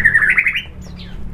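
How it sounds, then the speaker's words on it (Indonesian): A caged white-rumped shama (murai batu), currently molting and kept under a cover, gives a short harsh squawking call up close, followed by faint fainter chirps in the background. "Di sini juga ada burung murai batu lagi."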